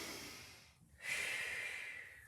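A single audible inhale followed by a long breathy exhale during a Pilates squat exercise, close and fairly soft, with no talking over it.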